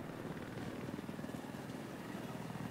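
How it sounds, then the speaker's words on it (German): Helicopter in the video game Battlefield 4 on the Shanghai conquest map, a steady low rotor drone with engine whine filling the short stretch at constant loudness, no speech over it. "Heli."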